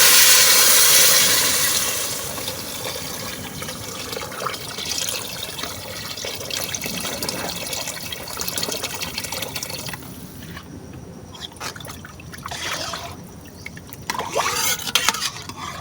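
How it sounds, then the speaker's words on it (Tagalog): Water poured and splashing into a pot for making rice porridge, a continuous close gush that eases into trickling and dribbling without any talk. "tapos lagyan natin ng tubig"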